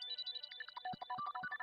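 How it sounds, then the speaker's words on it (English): A pentatonic arpeggiated synth plays quick, bright, bell-like notes in a rapid repeating pattern, with low thumps joining in partway, quiet and close with no voices. "I love pentatonic-y arpeggiated sounds like this."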